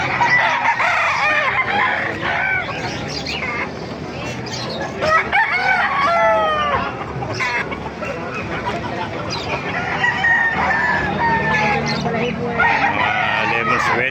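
Roosters crow again and again with scattered clucking from many chickens at a busy Calumpit market, loud and close amid a dense crowd of birds, with voices faintly underneath.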